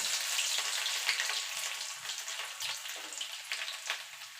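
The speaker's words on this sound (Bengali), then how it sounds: "রসুনটা একটুখানি ভাজা ভাজা করে নেব।" Six or seven cloves of chopped garlic fry in a pan, giving a steady bright sizzle with small crackles and pops throughout, close and alone without voices.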